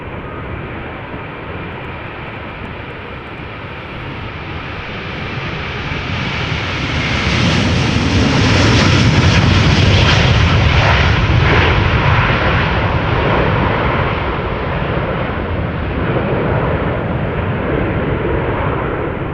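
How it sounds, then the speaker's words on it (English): A 19-year-old Delta Airlines Airbus A330-300 jet departing Amsterdam Schiphol roars loudly, building from a steady rumble to a broad, powerful peak and holding strong as it climbs away, with no voices. "A330 Delta Airlines going to Jerry in Portland, Oregon."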